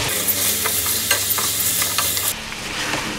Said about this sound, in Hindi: इसको पहले हम फ्राई करेंगे, जब ये लाइट गोल्डन हो जाएगा